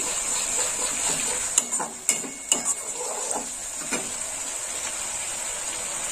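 Spice paste of green chilli paste and turmeric powder fries in oil in a pan for a tilapia curry, with a steady soft sizzle under a few sharp metal clinks of a spoon stirring.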